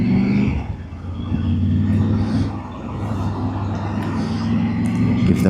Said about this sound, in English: Let this white car pass.